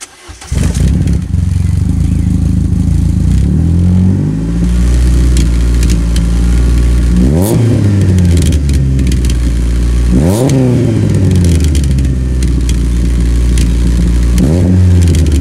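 A loud car engine revs repeatedly, climbing and dropping in pitch, its deep rumbling aftermarket exhaust close and dominant throughout.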